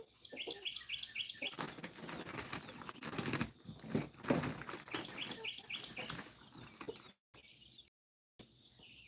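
Backyard chickens clucking and chirping with bursts of wing flapping, busy and close, rising and falling over several seconds with brief dropouts near the end.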